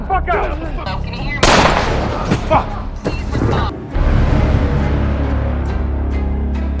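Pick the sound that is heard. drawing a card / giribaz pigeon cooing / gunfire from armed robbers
gunfire from armed robbers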